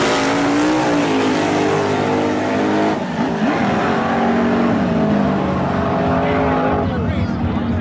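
A drag race car at Milan revs hard at high RPM and launches, a loud, sustained engine roar with rising and falling pitch sweeps, close up, with voices partly under the noise.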